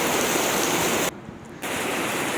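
Dense, steady roar of heavy rain pouring down nearby, briefly softening for a moment before returning just as strong.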